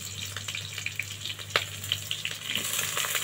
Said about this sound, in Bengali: কালো জিরেটা ভালোভাবে ফোড়ন হলে পরে দিয়ে দেব কচুরলতি।